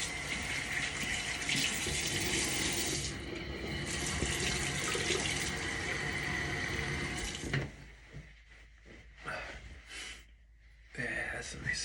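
Tap water runs steadily into a sink while soap is rinsed off, a loud continuous splashing flow for about seven seconds, followed by irregular splashes and drips as the rinsing slows.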